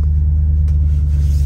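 A pickup truck merges onto a freeway, its engine and road noise forming a steady, loud low rumble that fills the cabin with no break or rise in pitch.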